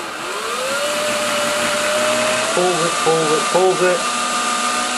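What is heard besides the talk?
cordless drill with tap splitter undoing a stuck tap nut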